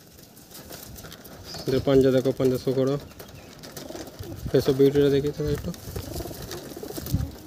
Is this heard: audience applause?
no